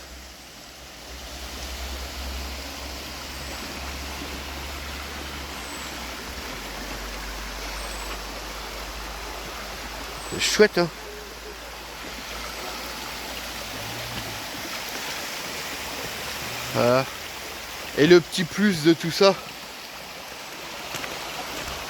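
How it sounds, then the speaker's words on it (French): A forest river rushes steadily beside a waterfall, its broad hiss continuous and close throughout, while someone talks briefly over the flowing water. "Au bord de la rivière."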